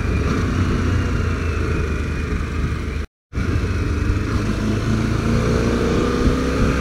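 An old Kawasaki motorcycle rides along a scenic road in the Massif des Maures, its engine a steady, loud drone with wind rush, briefly cut by a dropout midway, no talking.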